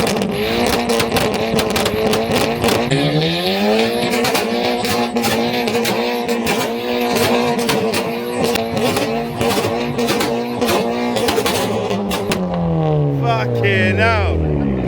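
Loud Stage 2 VW Golf GTI with a flame-spitting aftermarket exhaust, revving and accelerating hard on the road, a sustained rising engine roar with gear changes and crackles, with people talking over it.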